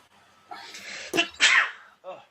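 A single sharp sneeze bursts out close by amid a background of people talking at a tabletop game session, followed by a short stretch of speech.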